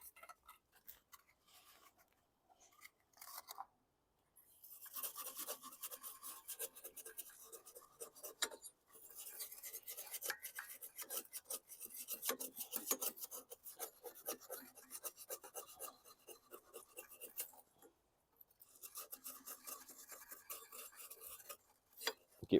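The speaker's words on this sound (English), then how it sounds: "I've got a wire brush and some sandpaper." Wire brush and sandpaper scrub crust from aluminum in dense, raspy strokes, close and fairly loud, broken by a few short pauses with no talk.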